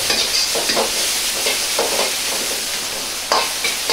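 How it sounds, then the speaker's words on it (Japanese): Vegetables and bean sprouts for a spicy sesame-miso chicken stir-fry crackle in a hot pan, with close, lively sizzling and repeated stirring tosses and scrapes, without any talk. "香りが出てきたら野菜を入れ炒めます。"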